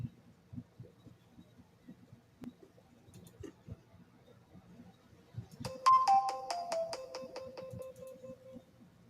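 A front door camera sets off a phone alert: a short, bright, melodic tone sequence rings out clearly after several seconds of quiet background hum and faint knocks in a room.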